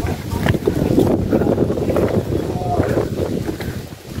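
Wind blows across a cool, forested mountain slope at Pura Lempuyang temple, a steady loud rushing and buffeting on the microphone while people talk throughout.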